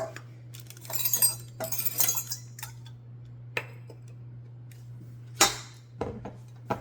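Eggs cracked and dropped into a kitchen mixing bowl give a few scattered clinks and taps against glass or metal, close and fairly quiet over a steady low hum, with short irregular bursts and pauses between them.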